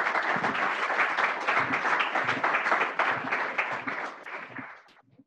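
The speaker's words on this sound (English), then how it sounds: "Let's give him a big round of applause." A crowd at a startup showcase applauds steadily with dense, continuous clapping that holds strong for several seconds, then thins and fades out near the end.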